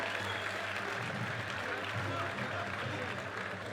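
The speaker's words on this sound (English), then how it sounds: "Let's have a round of applause for those medal winners" Audience applause for gold medal winners at a varsity boxing finals event, steady dense clapping from a crowd that holds loud and even throughout, with murmuring voices mixed in.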